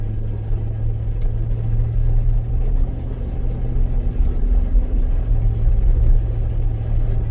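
A Chevy Suburban in two-wheel drive accelerates, its engine giving a steady low droning rumble with a faint whining tone rising and fading midway, continuous and fairly loud throughout.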